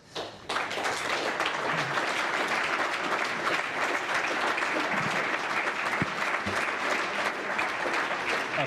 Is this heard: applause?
yes